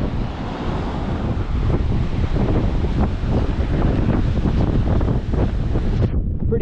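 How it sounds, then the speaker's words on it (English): Strong coastal wind buffets the microphone at Southeast Cape, Tasmania, a loud continuous roar with surf mixed underneath, steady throughout before dropping away at the very end. "Pretty noisy, I hope you can hear it without this wind."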